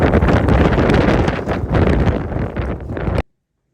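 Strong, cold wind buffets the microphone outdoors with loud, continuous roaring rumble that cuts off abruptly near the end.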